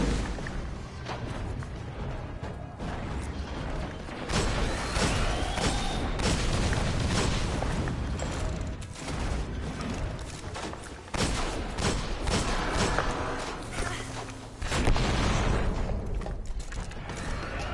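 Gunfire and explosions fill a battle in the video game Destiny: dense, overlapping shots and heavy booms over rumbling mechanical noise, with louder bursts recurring throughout.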